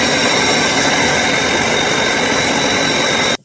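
A meat grinder runs through a second grind of meat for Genoa salami, a loud continuous motor drone and churning that holds steady and then cuts off abruptly at the end.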